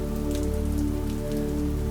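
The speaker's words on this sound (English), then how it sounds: "Raindrops wander down the glass in gentle lines" Rain patters steadily on a window pane, a dense, even wash of drops against the glass that continues without a break and with no voices.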